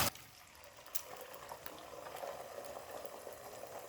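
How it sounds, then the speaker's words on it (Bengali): Three eggs beaten with a little salt fry over a high flame in hot oil in a wok, giving a steady, close sizzle with scattered crackles and pops and no talking. "গ্যাসটাকে হাই ফ্লেমে রেখে 3 থেকে 4 মিনিট ডিমটা এবার ভেজে নেব।"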